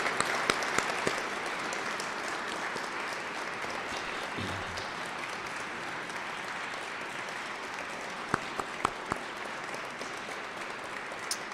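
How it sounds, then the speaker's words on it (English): Audience applause at a Louis Riel commemorative ceremony, a steady wash of clapping from a gathered crowd that holds level for about eleven seconds, with a few louder individual claps near the end. "if we could just give those folks a round of applause, please"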